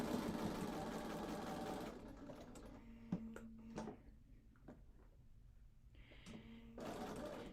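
A sewing machine stitches quilt fabric for a signature block, running loud and steady at first, pausing for a stretch with scattered small clicks and taps, then starting up again near the end.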